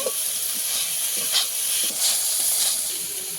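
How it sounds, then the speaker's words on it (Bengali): Okra frying in oil in a kadai, a loud close hiss and crackle with brief bursts of spattering as the pieces are stirred, steady throughout and free of speech. "একদম ভালো করে ঢেঁড়সগুলোকে আমি ভেজে নেব।"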